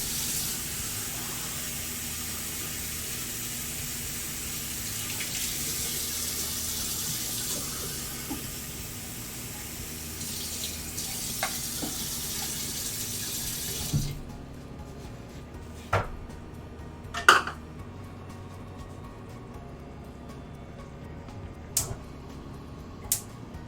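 Tap water runs steadily into a pot in a home kitchen while cooking, loud and continuous for about fourteen seconds, then stops, followed by scattered clinks and knocks of cookware.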